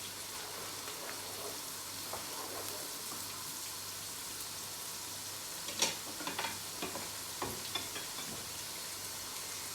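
Red chili and turmeric powder hit a hot pan of oil for a Bangladeshi spicy dry fish curry with vegetables, giving a steady soft sizzle with a few sharper crackles and spits midway, no voices.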